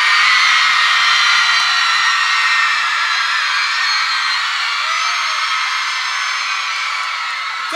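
Women in a festival crowd at a live show screaming and yelling together in a sustained, loud roar that fades slightly over several seconds, with no clear speech.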